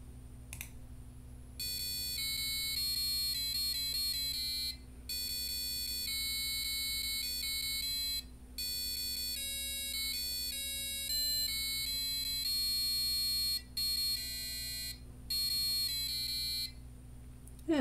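A passive buzzer on a Raspberry Pi Pico W beeps out the Margaritaville melody as a run of sharp, shrill square-wave notes with short gaps between phrases, sounding over a constant low electrical hum.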